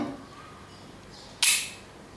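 A single sharp metallic click as a part of a .22 lever-action rifle snaps into place during reassembly, short and bright, after a stretch of quiet room tone.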